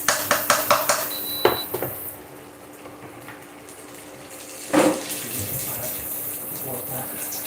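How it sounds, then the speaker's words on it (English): Tap water runs into a pot while cooking green pepper sauce, a steady hissing pour that follows a few clinks and knocks of dishes, then swells again with a brief louder splash. "So we're gonna add water to it."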